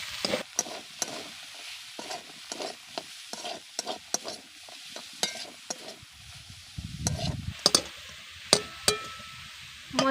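Beetroot pitha filling with peas is stirred together with spices in a pan. A spatula scrapes rhythmically and repeatedly against the metal over a low, steady sizzle, close and continuous throughout.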